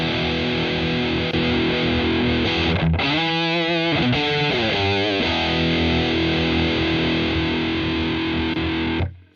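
Electric guitar through a NUX Fireman pedal on its high-gain channel 2, a loud saturated distorted tone with sustained chords, a brief gap, then choppy palm-muted riffing before ringing chords resume and cut off.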